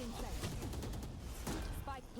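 Rapid bursts of Valorant gunfire crackle over a busy background of game sounds, with a slightly muffled, distant quality.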